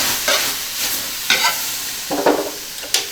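Squid and bamboo shoots stir-fried in a wok in a rural home kitchen, a steady loud sizzle broken by several scraping spatula strokes at an uneven rhythm, close and with no talking.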